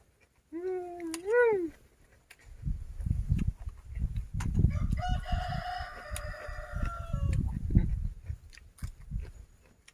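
A rooster crows twice near the start at a rural Thai home, followed by loud chewing and mouth noises with intermittent clucking-like tones in the background.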